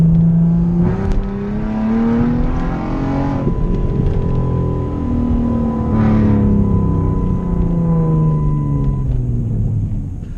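A Chrysler 300, just repaired after a bad fuel injector, accelerates hard through several gears on a test drive, its engine note rising and dropping at each shift, loud and steady from inside the car with no talk.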